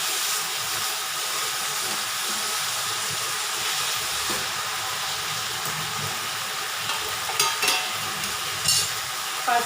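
Tender cluster beans frying in hot oil until crisp give a continuous, even sizzle with light crackling, joined near the end by a few sharp clicks and pops of stirring in the pan.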